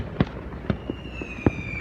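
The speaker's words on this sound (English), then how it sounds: "They got better fireworks back here than I don't know." Fourth of July fireworks go off in a few sharp, separate pops at moderate distance, each a brief crack followed by quiet.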